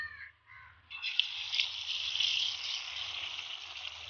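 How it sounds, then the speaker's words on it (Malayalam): Whole chicken deep-frying in hot oil in a Kerala home kitchen: a steady, fairly loud bubbling sizzle that swells in after a brief quieter start and holds evenly throughout, with a faint low hum beneath. "നല്ല എണ്ണയിൽ നല്ല മൂക്കി പൊരിച്ചുകൊണ്ടിരിക്കുകയാണ് നമ്മളെ ചിക്കൻ."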